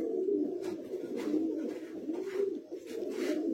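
Madrasi high-flying pigeons at a loft sale coo continuously in low, rolling, overlapping phrases, loud and close, with no talking.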